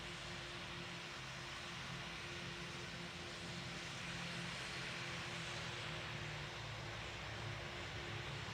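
Airliner engines in the Pilot Training Flight Simulator game spool up for takeoff on runway 16, a steady, broad roar with a low hum, quiet and continuous throughout, no voices.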